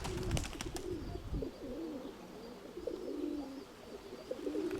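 Pigeons coo in a low, repeated warble close by, the soft throaty calls recurring through the moment over faint background noise, with a brief clatter of wings or movement near the start and no speech.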